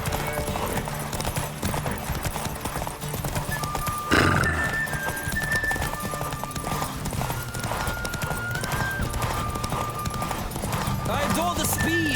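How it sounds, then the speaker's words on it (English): Horse hooves clip-clop in a fast galloping rhythm in the video game The Witcher 3: Wild Hunt, with a whinny partway through and tonal background sounds layered over the beat. "Don't spare the horse!"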